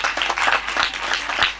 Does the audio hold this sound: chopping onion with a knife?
no